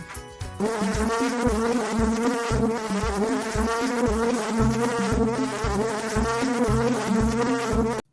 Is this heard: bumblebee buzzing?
yes